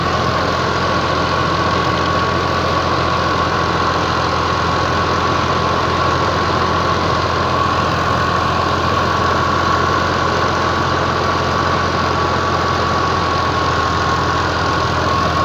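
A steady, droning Al-Ghazi tractor engine runs continuously at close range with a rotavator, preparing a potato field, a constant low rumble with a faint mechanical whine and no voices.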